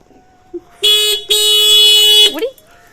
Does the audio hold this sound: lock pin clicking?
no